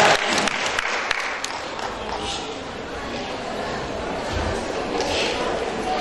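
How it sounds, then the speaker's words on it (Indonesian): Audience applause at an Indonesian public-speaking masterclass, a steady wash of clapping from a crowd that holds evenly for several seconds with light chatter mixed in. "Aplaus dulu untuk beliaunya."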